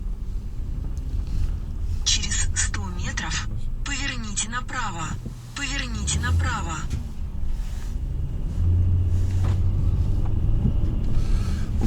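Car driving slowly through a residential neighbourhood in Ukraine, steady low engine and road rumble with wind noise throughout, while people talk inside the vehicle.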